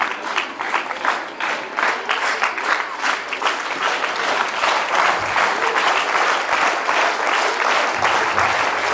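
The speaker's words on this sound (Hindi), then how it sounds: "ताली बजाएं।" Dense audience applause fills a school award ceremony at a CBSE school in Mohania, steady and close from start to finish with no pauses or voices.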